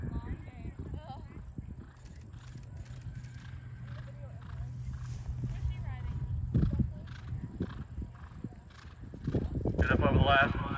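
Hooves of a five-year-old Holsteiner Irish Sport Horse cross clip-clop around a showjumping course, with repeated thuds of strides and landings, while an announcer commentates over the top and a snort or whinny breaks through near the end.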